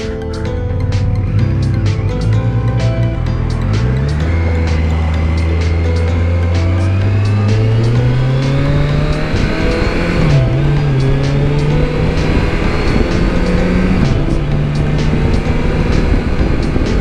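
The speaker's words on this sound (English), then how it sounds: "guess technically this is a Versys 1000 first ride. This is literally my first ride on this bike." A 2021 Kawasaki Versys 1000 SE LT+ motorcycle engine drones steadily while riding, its pitch rising and dipping with gear changes and throttle, loud and close under constant wind rush, with no talking.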